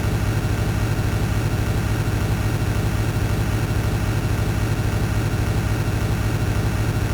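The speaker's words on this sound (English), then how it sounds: "The repeated whirring of the engine is really good. I'm really liking the engine sound." Bus engine in the video game Desert Bus VR, a steady, loud, droning whir with a low repeating rhythm that runs unbroken the whole time with no talk.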